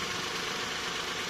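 A Suzuki F6A car engine idles after a timing belt job, giving a steady, even mid-pitched running hum with a faint knock, close and alone without talk.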